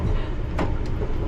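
A London Underground train runs on the line between Cockfosters and Heathrow Terminal 4, giving a steady, loud rumble of wheels and carriage with a couple of brief rattles.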